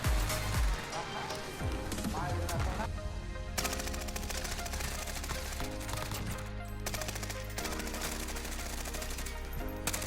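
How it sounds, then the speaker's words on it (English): Finn LMG light machine gun firing in the Warzone video game, sustained bursts of automatic gunfire loud and close throughout, with a brief pause midway, over game background sound. "But there you have the Finn LMG."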